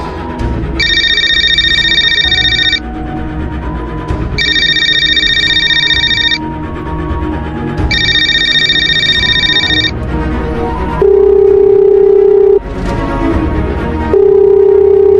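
A phone call rings out on the line in an animated school drama: three identical electronic ringback bursts sound clearly at a steady pace, followed by two lower, steadier tones, with no one speaking.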